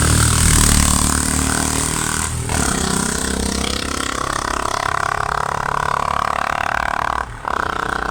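A Royal Enfield motorcycle engine fitted with an aftermarket exhaust runs close and loud, a rough, throbbing burble with a couple of brief dips in the rumble, and no one talking.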